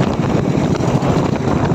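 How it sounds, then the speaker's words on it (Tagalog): Strong wind at sea roars and buffets loudly against the microphone, a constant gusty rush with faint water and fishing boat noise underneath. "Hindi man kalakihan ang alon pero sobrang lakas ng hangin."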